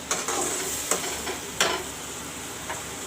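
Masala with Kashmiri chili powder, dried red chilies and green chilies sizzles steadily in a pan for a chicken jhol, with soft intermittent scrapes and clicks of stirring close by and no talking.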